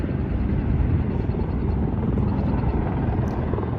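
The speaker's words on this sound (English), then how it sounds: "See a helicopter." A steady, low rumbling whir of a helicopter flying overhead near the Las Vegas Strip, continuous and fairly loud with a pulsing throb, with no voices.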